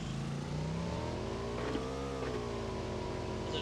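Video game car engine revving steadily and close, a continuous droning whine that rises and dips in pitch, with no talk over it.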